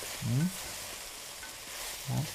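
Courgettes in sauce sizzle quietly in a pan as they begin to cook, a soft steady fry with two brief voiced sounds over it.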